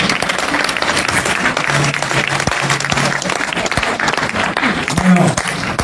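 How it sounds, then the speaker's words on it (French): Audience applause at a graduation ceremony for the 2018 class of an institute, a steady dense clapping that fills the whole stretch with a continuous crackle, with voices and murmurs mixed in underneath. "Je vous demande de l'applaudir très fort."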